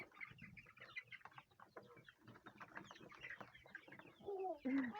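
Chickens clucking and squawking in a coop, a busy cluster of close calls over low scuffling, with a louder squawk near the end.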